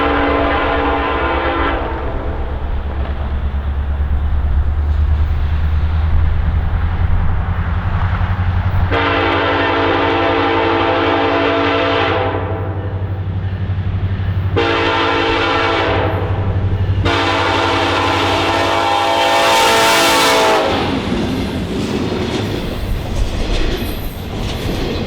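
CN freight train rolling past on the Quinnesec line, loud rumble with several long blasts of the horn sounding close by, rail cars clattering as it passes.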